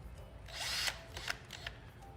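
A brief, quiet whir of a drill boring a 1/8-inch pilot hole in reclaimed wood, spinning up and cutting, with a few faint scraping clicks afterward.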